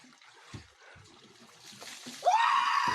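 A man lets out a loud, sustained scream as a mug of cold water is poured over him while bathing in winter, with a splash and trickle of water just before it.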